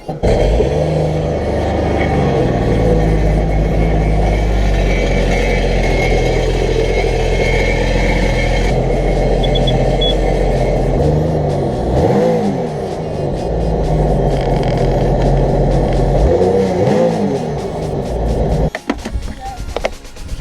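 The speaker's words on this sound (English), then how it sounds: "mine is not going to sound that good because I have the stock exhaust on it" A Sea-Doo engine with stock exhaust runs loud and close, a continuous droning rumble with a few rising and falling revs before cutting off near the end.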